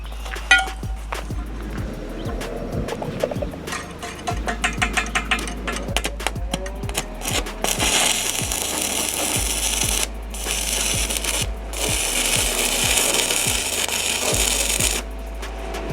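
Stick welding a small metal strip on DC positive, rod at about 95 amps on a WeldPro Mig200 machine, with a steady crackling, sizzling arc that runs for several seconds, breaking off briefly and restarting, punctuated by sharp ticks and clinks.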